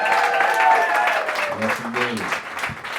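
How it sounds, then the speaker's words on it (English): Applause fills a comedy show crowd, steady clapping from the audience running throughout while a performer's voice speaks over it. "Clap it up for Head and her fiance"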